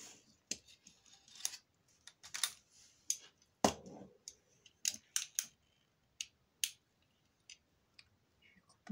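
Scissors trim excess paper from an autumn scrapbook album page: a quiet, irregular run of sharp, close snips and clicks with short pauses between cuts.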